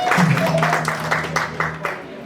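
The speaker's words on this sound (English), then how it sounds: "Can you clap for him?" Short round of clapping from guests at a Rotary Club president installation event in Bungoma, with distinct claps thinning out over two seconds while a voice carries on underneath.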